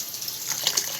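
Tap water gushes steadily into a cooking pot being filled with several cups for boiling meat, a close, continuous splashing rush with no talk.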